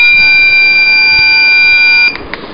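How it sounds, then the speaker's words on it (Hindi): Electronic doorbell ringing after its button is pressed, a loud steady high-pitched tone held for about two seconds before cutting off, close and alone. "ये वाला, तो ये बेल बजेगी उसकी।"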